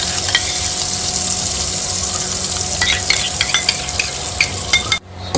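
Two tablespoons of ghee sizzling loudly in a pan for prawns ghee roast, a steady close frying hiss with light stirring clinks, cutting off abruptly near the end.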